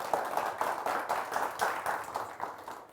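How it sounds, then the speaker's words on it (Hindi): Studio audience on a TV show clapping to welcome a guest, a steady, moderately loud wash of applause with faint rhythmic pulses throughout, no voices. "तो जोरदार तालियों के साथ इनका स्वागत कीजिए"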